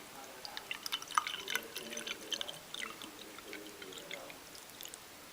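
Water poured from a bottle into a cup, a soft uneven trickle with small drips and splashes, fairly quiet and close, with faint background noise.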